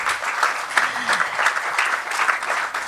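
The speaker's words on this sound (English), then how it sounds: "We're gonna have a huge round of applause" An audience bursts into sustained applause after an inspiring conversation about a soldier's family life, a dense, steady wash of many hands clapping close by.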